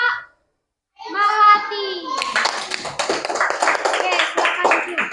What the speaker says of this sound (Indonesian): kalau tidak beri tepuk tangan untuk kelompok